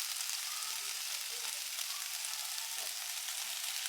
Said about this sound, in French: on rajoute nos cubes de poulet qu'on va précuire également pendant 5 minutes à feu moyen fort